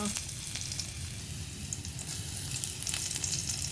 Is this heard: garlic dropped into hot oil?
yes